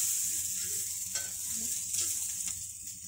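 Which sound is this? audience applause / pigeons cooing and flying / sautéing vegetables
sautéing vegetables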